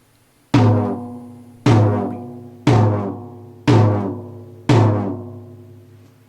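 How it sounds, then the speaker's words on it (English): Tom drum with out-of-tune, dissonant top and bottom heads, struck five times at an even pace; each loud hit rings with a wavering, clashing tone that decays before the next. "it's important to make sure that there's no dissonance between the top and the bottom head"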